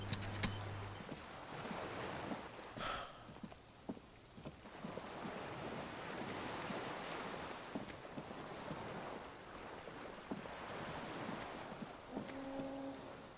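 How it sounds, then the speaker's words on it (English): Water laps and sloshes against a dock beside a swaying skiff in the game Disco Elysium, a soft continuous wash with small splashes and creaks, fairly faint and steady, with no voices. "The skiff is swaying on the waves by the dock."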